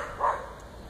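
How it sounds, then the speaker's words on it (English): A single short dog bark rings out at a moderate distance outdoors in northern Wisconsin, a brief muffled yelp over quiet background hiss. "there's a dog I want to kill."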